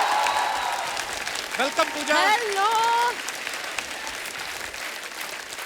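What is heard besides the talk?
studio audience applause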